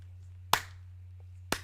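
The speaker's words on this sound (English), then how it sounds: "That's a clap." A single sharp hand clap marks the beat in a beginner popping dance lesson, followed by a second clap about a second later; both are crisp and close, over a steady low hum with no talking.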